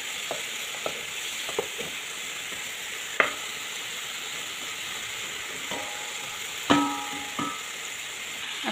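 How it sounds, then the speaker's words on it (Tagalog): Chicken for biryani simmering in a pan with spice powder, a steady soft sizzle and bubbling hiss with a few faint clinks of a utensil against the pan. "Hayaan natin siyang maluto. After that, hayaan naman natin siyang kumulo sa powder."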